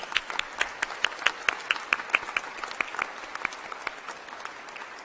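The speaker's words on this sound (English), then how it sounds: "Another round of applause." Graduates and guests applaud at the University of New Brunswick's sixty-first convocation in October 2015, crisp individual claps standing out near the front over a softer crowd patter, the clapping thinning and fading toward the end.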